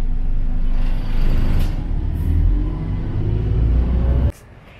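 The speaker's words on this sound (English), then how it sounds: "So we've just gotten off the bus" A city bus on a London street pulls away after passengers get off, its engine rumbling loud and steady with a short hiss of air brakes, then cutting off abruptly near the end.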